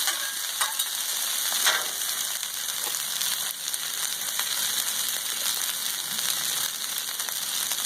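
Cold or room-temperature rice, four cups cooked, frying on a hot Blackstone griddle outdoors, giving a steady, bright sizzle throughout with occasional scraping of a spatula.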